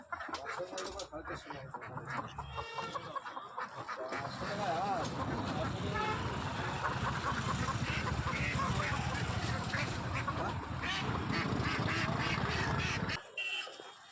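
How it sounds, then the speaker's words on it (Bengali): Ducks quack repeatedly amid a busy crowd, with chickens clucking and people talking nearby in a noisy market setting. "অনেক হাঁস আছে"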